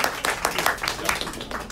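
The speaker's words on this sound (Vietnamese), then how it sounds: "xin một tràng vỗ tay thật lớn để welcome" A community gathering claps to welcome representative Tyler Diep, a brief burst of audience applause with uneven, close hand claps lasting under two seconds.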